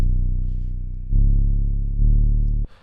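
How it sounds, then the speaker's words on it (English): Buzzy synth tone blending square and sawtooth waves, sustained with rich harmonics, stepping up in pitch twice over about two and a half seconds before cutting off, played alone. "mixture of a square wave and a saw wave, which by itself sounds like this"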